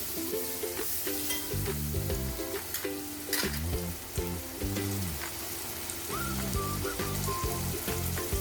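Two large chopped tomatoes fry in a pan for a kuzhambu, a steady close sizzle with spatula stirring and scraping throughout, and no one speaking.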